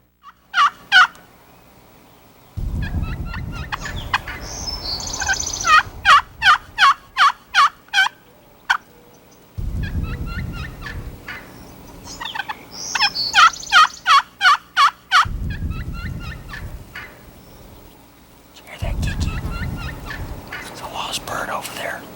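Wild turkey gobbling in answer to hunting calls, with rapid rattling gobble bursts repeating several times over about twenty seconds, set against bursts of low rumbling wind or handling noise.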